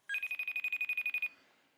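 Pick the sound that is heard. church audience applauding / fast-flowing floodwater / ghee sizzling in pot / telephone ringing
telephone ringing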